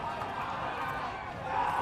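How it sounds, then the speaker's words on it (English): Rowdy crowd at a national touch football league match, a steady roar of cheering and shouting voices spread across the field, continuous and moderately loud with a slight swell at the end. "The crowd's getting rowdy."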